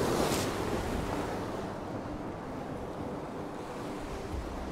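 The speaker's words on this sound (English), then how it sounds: "just catching the waves crashing over that little rock" Sea waves crash and wash over a small rock on the Northumberland coast near Dunstanburgh Castle, a loud surge at the start fading into a steady roar of surf with wind buffeting the microphone.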